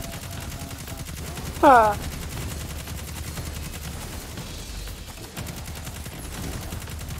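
Gunfire in the Destiny 2 video game, a steady, rapid stream of shots that runs underneath the whole clip, with one short spoken interjection near the start.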